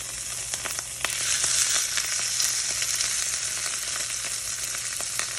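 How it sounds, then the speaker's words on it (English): Barramundi fillet sizzles steadily in a hot frying pan, a loud continuous hiss with occasional pops and crackles close by. "that's exactly what you want to hear. You want to hear sizzle."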